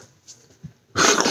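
A dog gives faint, low whimpers and a brief growl, then a louder burst of rough breathy noise close by, with no clear speech over it.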